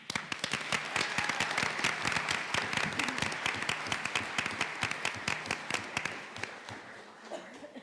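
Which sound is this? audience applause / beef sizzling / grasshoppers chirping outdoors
audience applause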